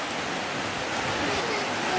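Rain falls steadily, a dense even hiss with no breaks, moderately loud and close.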